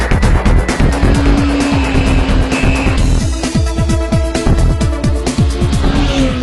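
A 2009 Kawasaki ZX-10R sport bike on a race track gives a loud, close engine roar that rises and falls in quick, repeated revs and gear changes, with a raspy, stuttering pulse throughout.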